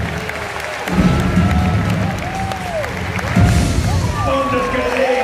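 Audience applause and clapping at the Kaltenberg knight tournament in Germany, a broad steady crowd wash that swells at about one second and again near three and a half, with an announcer talking over it.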